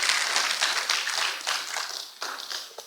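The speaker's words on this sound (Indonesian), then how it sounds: "tepuk tangan yang meriah buat Tuhan Yesus yang ajaib" Scattered clapping from a church congregation during a service, a moderately near patter of hands that thins out and fades in uneven bursts over a few seconds.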